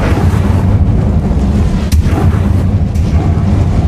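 A fire spell cast in Hogwarts Legacy gives a loud, continuous roaring blast that holds steady for about four seconds, with a sharp crackling burst partway through.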